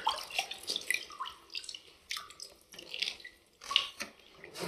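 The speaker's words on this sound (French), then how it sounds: "on va juste humidifier, on va faire un petit brouillard" Short hissing bursts of a water sprayer laying a fine mist onto a freshly plastered ceiling, coming in irregular puffs with quiet gaps between them and no talk.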